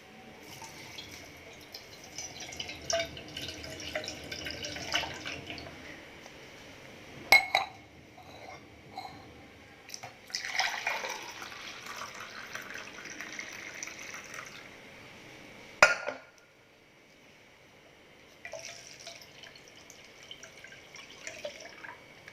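Cold milk is filtered and poured while making rose milk, giving an irregular trickling, dripping stream with faint clinks of a vessel, steady at moderate level with brief louder taps and pauses.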